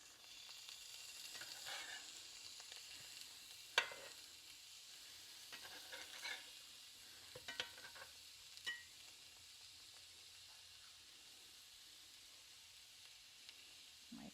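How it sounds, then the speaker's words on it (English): Meati steaks frying in a pan, a soft continuous sizzle punctuated by a few sharp clicks and scrapes as the pieces are flipped, fairly quiet and with no talking. "Okay, so they've been cooking for about 2-3 minutes. I'm gonna flip them for the first time."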